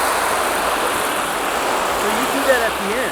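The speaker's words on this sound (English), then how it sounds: "I'm gonna actually use some evaporated milk, and I'm gonna pour this right in here" Evaporated milk is poured onto a hot cooking disc while chicharron cooks, giving a loud, continuous sizzling hiss that is steady throughout.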